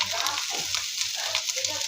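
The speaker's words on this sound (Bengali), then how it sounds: "ডিম ভাজতে তেমন সময় লাগে না, তবু মাছের ডিম এই জন্য একটু ভাজতে হচ্ছে।" Fish roe sizzles and crackles in a frying pan, a steady close-up hiss with small popping bursts over a low hum.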